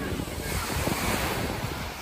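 Sea waves wash steadily onto a beach in the evening, a continuous rushing surf mixed with gusty wind buffeting the microphone.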